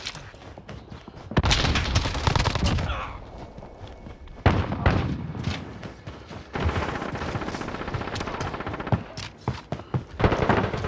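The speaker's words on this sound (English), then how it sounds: "I'm taking fire!" Loud, dense bursts of automatic gunfire and heavy impacts fill a Call of Duty: Modern Warfare multiplayer fight, with rattling volleys and thuds repeating through the whole stretch.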